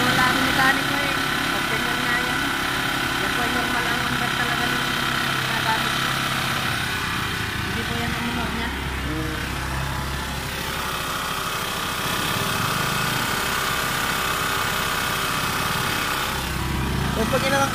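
A Yamaha YTX125 motorcycle engine idles with a steady, buzzy drone, close and continuous, with a slight lift in pitch partway through while someone talks over it.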